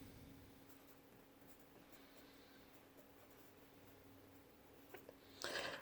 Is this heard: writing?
yes